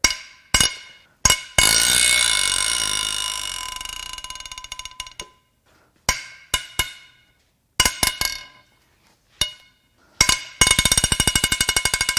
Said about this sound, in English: Now it's time to crack the head bolts loose. These are 10mm hex-headed bolts.